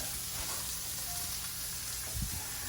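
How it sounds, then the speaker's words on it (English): Pork loin sears in a hot pan, giving a steady, close sizzle and hiss that holds even throughout, with a brief soft clatter near the end. "we're gonna let that sear for just a minute, let it get some good color on there"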